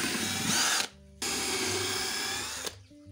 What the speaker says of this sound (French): Donc là, on va percer et visser.